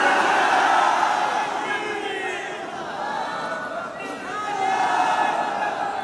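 A large crowd at a religious conference on the finality of prophethood chants slogans in unison, a loud sustained roar of many voices that swells, dips briefly and rises again.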